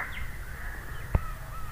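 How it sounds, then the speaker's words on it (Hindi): A crow caws once or twice, moderately close, in a quiet outdoor morning setting under a jamun tree, with a brief sharp knock partway through and soft background hiss. "कौवे मुझे देख के काएं काएं करने लग गए हैं"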